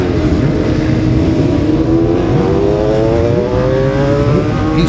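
A Kawasaki superbike ridden by number 64 sets off in a Classic TT race, its engine roaring loud and close, then climbing steadily in pitch as it accelerates away through the gears.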